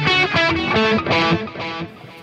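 Distorted electric guitar chords ring out in a few strummed bursts through a Fender Reflecting Pool delay and reverb pedal, washed in reverb that lingers and fades between strokes.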